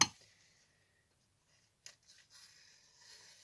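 A sharpened knife edge slices catalog paper in a sharpening test, giving a brief initial rasp, a quiet pause, and then a soft, papery hissing cut that runs to the end, with no talking.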